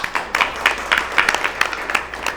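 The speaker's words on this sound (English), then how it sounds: "we need to give this a hand clap" Panel discussion audience gives a short round of applause, a quick burst of scattered clapping over a low room murmur.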